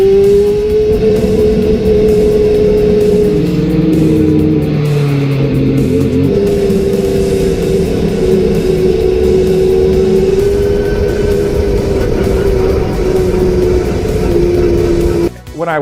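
A 1986 March IndyCar race car roars close by as it accelerates, its engine a loud, sustained high-pitched howl rising and shifting in pitch over about fifteen seconds, then cutting off abruptly at the end.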